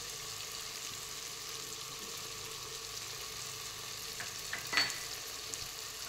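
Vegetables frying in oil in a pan, a steady soft sizzle throughout with a brief louder crackle and stir near the end, no voices.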